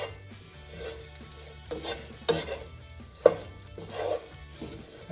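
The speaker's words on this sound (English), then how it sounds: "Give it a quick stir." Bitter melon stir-fries in a pan, its quiet sizzle punctuated by several distinct spatula scrapes and clanks against the metal as it is tossed.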